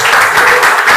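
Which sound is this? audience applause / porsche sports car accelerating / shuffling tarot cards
audience applause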